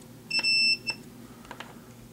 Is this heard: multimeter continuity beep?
yes